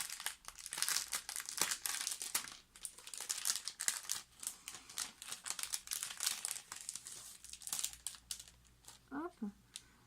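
A small surprise packet is torn and opened at a craft table, its crinkly plastic and paper rustling steadily and close for several seconds, with soft speech underneath.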